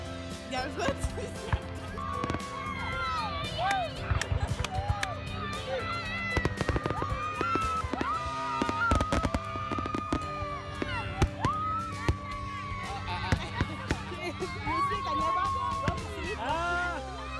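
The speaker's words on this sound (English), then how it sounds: "What do you think of fireworks?" Fireworks burst in a sharp, irregular series of cracks and bangs, some near and loud, with crackling between them, under steady crowd chatter and talk.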